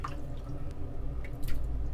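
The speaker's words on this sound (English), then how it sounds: "smearing it on your face and just agitating it like" Duke Cannon shaving cream is worked into a lather on a face with a shaving brush, giving continuous close wet squishing and dripping without talk.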